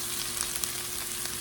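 Beef and broccoli frying in a pan while being stirred, a loud, dense, continuous sizzle with light crackles throughout.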